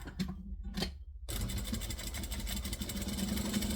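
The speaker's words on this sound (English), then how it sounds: "I'm going to baste the whole way around" A sewing machine starts with two short stitching bursts and then runs steadily and rapidly for several seconds, basting around the edge of fabric for an organizer, heard close and fairly quiet.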